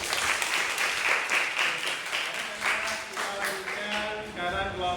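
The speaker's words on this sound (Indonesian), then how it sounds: "tepuk tangan untuk kelompok 1." A classroom audience applauding a presenting group, with dense, steady clapping from many hands, fairly loud and close, continuing throughout with a few voices faintly mixed in toward the end.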